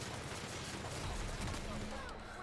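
A Ghostbusters-style weapon fires in The Outer Worlds, a dense sustained crackling roar with low rumble that holds steady across the whole stretch, loud and continuous with no pauses.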